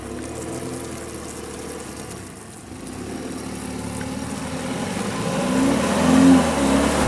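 A 2020 BMW 330i Touring G21 on the road, its engine a steady mid-pitched drone under broadband tyre and road roar that swells slightly toward the end, with no talk.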